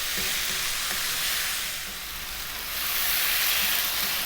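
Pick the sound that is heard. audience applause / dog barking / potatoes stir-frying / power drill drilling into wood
potatoes stir-frying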